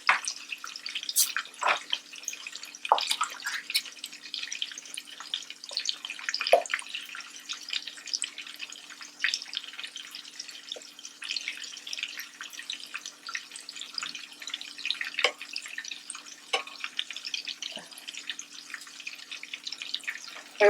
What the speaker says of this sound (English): Always make sure that you wash the cover of your can, all cans.